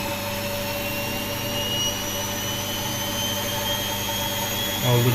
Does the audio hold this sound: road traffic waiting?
no